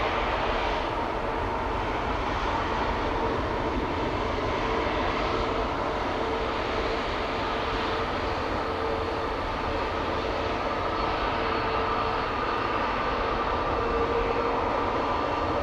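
Steady broadband jet engine roar of an airliner departing Amsterdam Schiphol Airport, a 2019-built aircraft, holding at a loud, even level throughout without any speech.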